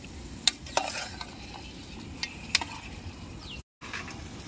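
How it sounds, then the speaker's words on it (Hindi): Mutton stirred in hot frying oil, giving a few sharp scraping clicks of a spoon against the pan over a quiet, steady sizzle, with a brief dropout near the end. "थोड़ा सा मटन को हिला लेना है ऊपर नीचे से तेल में।"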